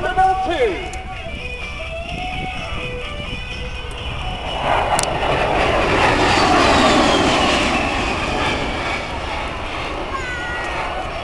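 A USAF A-10 Thunderbolt II jet roars through a high-G turn during an air show demonstration, its engine drone swelling louder toward the middle and then easing off, under continuous announcer-style commentary and crowd ambience.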